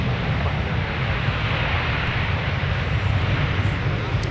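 Sun Country airliner at Minneapolis airport, a steady broad roar of jet engines at a distance, constant and unbroken throughout, with no clear voices over it.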